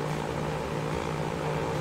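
Propeller airplane flying in the transport simulation game Transport Fever 2, a steady, fairly quiet droning hum with a constant engine tone and no voices.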